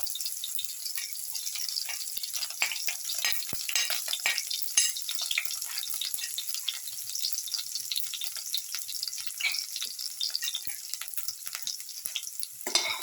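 Shallots fry in hot oil with mustard seeds popping, a steady bright sizzle dotted with quick crackles and pops, fairly quiet and with no voices.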